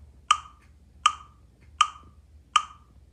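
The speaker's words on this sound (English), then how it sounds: "A metronome sounds like this." A metronome ticks a steady beat, with four crisp, evenly spaced clicks sounding alone against near silence.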